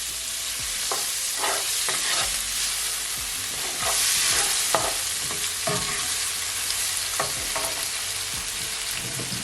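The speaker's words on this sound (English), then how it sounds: "Give it a stir" A spoon stirs seasoning through a sizzling frying pan of tinned mackerel run down for Jamaican rasta pasta, with steady frying hiss under repeated scraping strokes against the pan, no voices.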